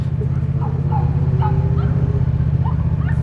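A dog on a street gives a few shrill, high yelps that sound like a woman screaming, scattered over a steady low rumble of traffic or engine noise.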